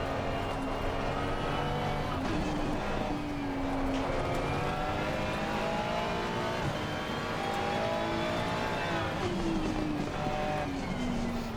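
A Ferrari 296 race car engine howls continuously through gear changes and revs as it laps the Paul Ricard circuit in the ACC racing game, sounding steady and close throughout with no talking.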